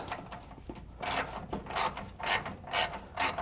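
Ratchet wrench snugging up the front suspension bolts on a 1966 Corvette under repair, a jack stand under the lower A-arm, giving bursts of rapid clicking strokes that repeat roughly every half second, close and clear with no talk.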